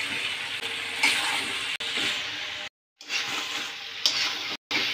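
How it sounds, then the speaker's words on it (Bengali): Chicken and fried potatoes are stir-fried in a pan during a chicken kasha recipe, giving a steady loud sizzle with scraping stirs, broken by two short silent gaps. "মাংসগুলো কষানো হয়ে গেছে, এখন আমি ভাজা আলু দিয়েও একটু কষিয়ে নেব।"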